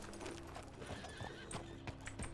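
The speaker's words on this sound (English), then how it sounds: "I'm walking my horse." A horse in the video game RedM whinnies while its hooves clip-clop at a walk, a short burst of neighing followed by a few distinct, fairly close hoof strikes.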